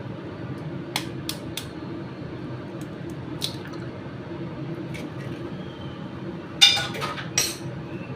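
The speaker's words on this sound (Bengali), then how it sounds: "একটা ডিম ফাটাবো।" An egg cracked into a bowl in a home kitchen: a few faint scattered clicks, then a sharp crack and a wet squish near the end, close and without speech.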